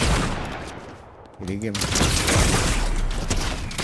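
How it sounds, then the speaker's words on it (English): Shotgun in Fortnite fired in rapid succession, dense loud blasts overlapping each other, with someone talking briefly between shots. "I'm just spamming the hell out of the trigger on that. I like this shotgun though."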